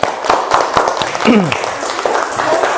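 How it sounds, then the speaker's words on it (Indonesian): A small group claps in a quick burst of applause, mixed with excited voices and talk. "Kita beri tepuk tangan dulu"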